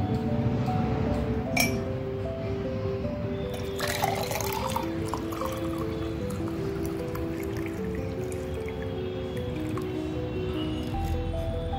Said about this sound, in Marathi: आता आपण गाळून घेऊ